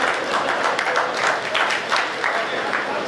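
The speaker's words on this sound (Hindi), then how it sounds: "तालियां गलत जगह बजाते हो आप" Audience applause at a Hindi comedy poetry gathering, a dense crackle of many hands clapping steadily for about three seconds with murmuring mixed in underneath.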